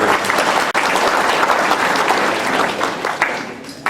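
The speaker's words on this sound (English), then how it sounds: "You should give yourselves a round of applause" Audience applause at a sheriff's press conference, loud sustained clapping from a room of people that stays even for several seconds before tapering slightly at the end.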